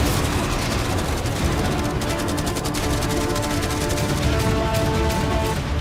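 Loud, rapid barrage of bangs and cracks from fireworks, arrows and catapults all fired at once toward a yacht, dense and continuous with no pauses.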